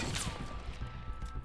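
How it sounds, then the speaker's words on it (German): Gunfire from the video game Fortnite Battle Royale comes as a dense, fast burst of shots that fills the short stretch at steady loudness, with a brief descending whistle near the start. "Wow, seht ihr die Schüsse?"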